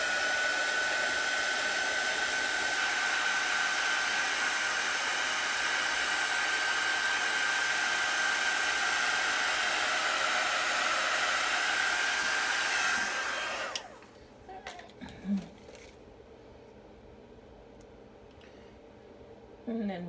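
A hair dryer drying craft paint roars steadily and loud for about fourteen seconds, then switches off, leaving quiet handling noises and a faint voice.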